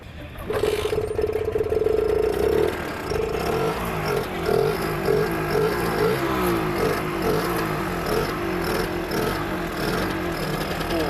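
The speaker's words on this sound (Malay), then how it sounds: "last sekali saya nak dengar bunyi motor ni" An original Lambretta Series 2 two-stroke scooter engine starts up and idles with a rattling, steady putter, running loud and close for several seconds.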